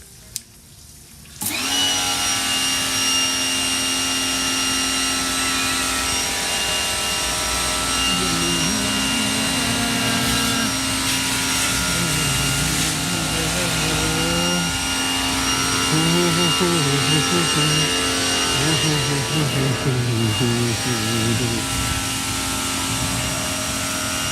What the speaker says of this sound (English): This is the high pressure washer in action.